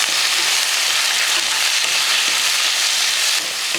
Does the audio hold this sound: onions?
yes